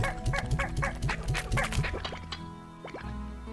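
Chickens in the video game Slime Rancher cluck in a quick, rhythmic run of calls, then a few scattered squawks and a soft drip-like tone trailing off, all fairly close and without speech.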